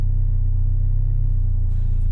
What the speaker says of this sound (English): Back on the road in the Ferrari.